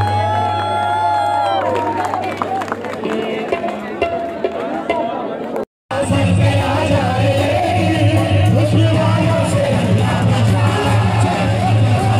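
University audience at a qawwali night in Multan applauds and cheers loudly, a dense crowd roar with whoops and clapping over sustained music, briefly cut to silence midway before swelling again.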